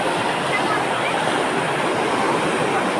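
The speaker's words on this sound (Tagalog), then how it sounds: "Lakas ng agos dito." A strong river current flows steadily in a dense, loud rush of water that fills the whole moment without a break, close by and continuous with no distinct splashes standing out.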